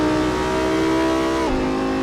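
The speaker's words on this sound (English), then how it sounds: "let you enjoy the engine sound as we do a lap" An Audi R8 V10 engine in Assetto Corsa holds a loud, steady high-pitched drone under load, then drops sharply in pitch as if on an upshift and carries on droning, with no voices.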